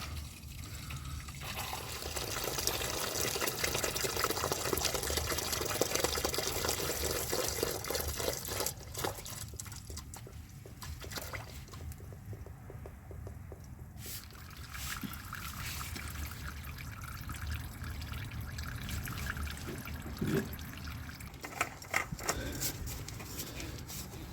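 Diesel draining from an engine during a second flush, a steady trickling, dribbling flow that runs continuously and fairly quietly, with a few faint clinks partway through.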